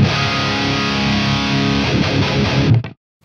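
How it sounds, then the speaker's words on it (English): Heavily distorted electric guitar played in real time through an STL Tones guitar plugin, sustained chords, loud and dense, then cutting off abruptly into silence near the end. "now we're running guitar tones through it in real time"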